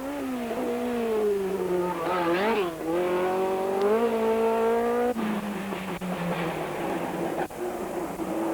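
A race car climbs the 1988 hill climb course at l'M de Bomerée, its engine a loud, continuous drone that rises and falls in pitch as it revs and shifts.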